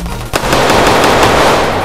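Rapid automatic gunfire from a switch-equipped Glock pistol in a GTA roleplay game, a loud continuous burst that kicks in after a brief sharp shot and runs steadily to the end.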